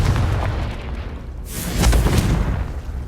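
A Confringo fire spell detonates in the Hogwarts Legacy video game, a loud booming blast partway through that swells and rumbles amid ongoing game ambience, with no voices.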